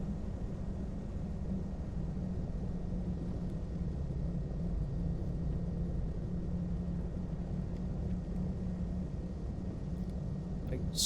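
A Piper PA-34 Seneca V in Flight Simulator X taxiing, its engines a steady low droning rumble that stays even and unbroken throughout.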